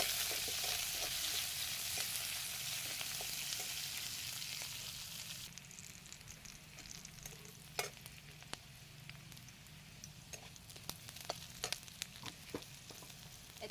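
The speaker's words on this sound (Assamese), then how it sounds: "এইখিনি এতিয়া ভালকৈ ভাজি ল'ম" Onion and green chili frying in hot oil in a pan give a loud, dense sizzle that later settles into a softer hiss with scattered spatula taps and crackles. No voices are heard.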